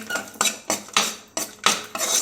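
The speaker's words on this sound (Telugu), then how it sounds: "జీడిపప్పు వేసాను కదా ఇప్పుడైతే కిస్మిస్ వేస్తుంది" Cashews and raisins frying in a pan, stirred with a metal spoon: rhythmic scraping strokes and clinks against the pan repeat about every third of a second, close and loud.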